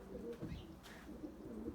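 Pigeons coo softly and faintly in low throaty murmurs over a quiet background hiss, with a brief higher chirp in the middle.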